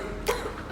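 A single short cough bursts out once, close and fairly loud, with nothing else around it.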